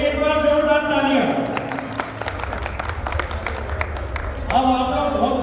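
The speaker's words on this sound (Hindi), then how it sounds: "श्री कमल जी भाव साहब के लिए एक बार जोरदार तालियां।" Hearty applause from a community gathering at an Annakut festival's family games in Ujjain, with crisp, close hand claps sustained for several seconds as a voice talks at the beginning and again near the end.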